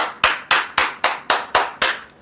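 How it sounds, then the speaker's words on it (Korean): One person claps about eight times, close by, sharp and loud, in a steady even rhythm with short gaps between the claps. "박수."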